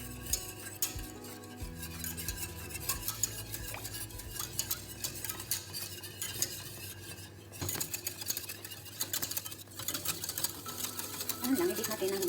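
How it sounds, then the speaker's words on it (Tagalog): Custard cream and milk being beaten slowly in a bowl until creamy, a busy, continuous rapid rattling and scraping up close, with some talk faintly underneath. "At i-beat natin dahan-dahan until mag-creamy siya."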